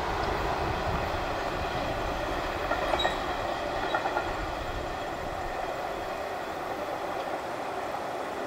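A Norfolk Southern freight train rolls past with a steady, loud rumble and faint rhythmic wheel clatter, a few sharper squeaks rising briefly midway.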